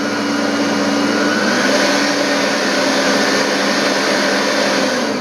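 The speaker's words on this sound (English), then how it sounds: "The mixer is on low." An electric mixer runs on low speed, beating eggs into a lemon sponge cake batter with a loud, continuous motor whir and a rough churning texture throughout.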